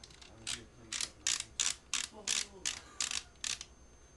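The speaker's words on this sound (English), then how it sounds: "I'm going to open it halfway and reattach my barrel." Remington 870 12-gauge shotgun barrel being reattached with the action opened halfway: a series of eight or nine evenly spaced metallic clicks and ratcheting snaps, close and fairly loud, with no talking.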